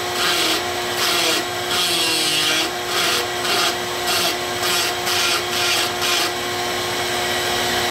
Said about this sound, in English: So I will continue with the grinding stone and carry on in hopes of not breaking